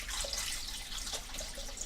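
Filtered tap water pours steadily over freshly cooked eggs in a kitchen sink, a continuous close, bright splashing rush with no talking.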